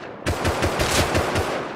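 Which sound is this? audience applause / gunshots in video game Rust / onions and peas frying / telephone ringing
gunshots in video game Rust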